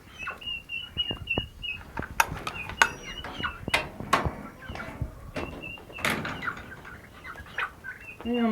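Turkeys in a farmyard give out a run of clucks and short high calls, with scattered knocks and rustles of feeding nearby, fairly close and uneven, a voice now and then in the background.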